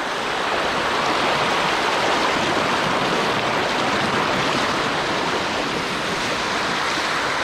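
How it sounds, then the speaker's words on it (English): Creek water flows in a continuous, fairly loud rushing wash, steady and broadband, heard close up while wading with no voices present. "This is the creek."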